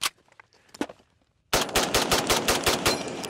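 M1 Garand rifle firing a rapid string of loud, close shots after a brief quieter stretch, each sharp report running into the next with no talk.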